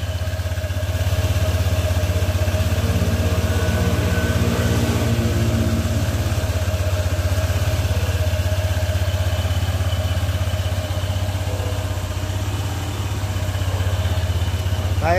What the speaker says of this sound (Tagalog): Okay, so ito na yung tunog ng makina.